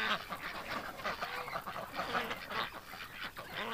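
Ducks kept outdoors on a winter evening honk and quack in a busy, overlapping chorus, close by and steady throughout, with no talking.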